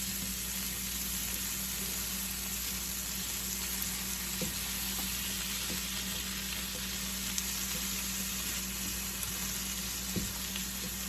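Fairy tale eggplant sautés in a pan, an even, continuous sizzle over a constant background hum, with a few faint stirring knocks and no speech.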